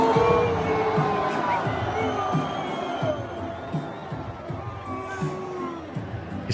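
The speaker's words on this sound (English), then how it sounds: "Now listen to the crowd. They're not too happy." A large stadium crowd waiting for fireworks gives off a restless, distant roar with scattered shouts, whistles and whoops, while someone talks over it up close.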